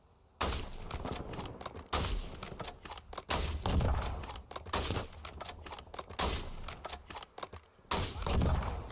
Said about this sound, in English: Somebody else is shooting him.